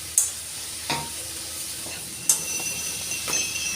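Cauliflower and fresh shrimp stir-fry in a pan with a steady sizzle, broken by a few sharp scraping clinks of a utensil stirring at irregular intervals.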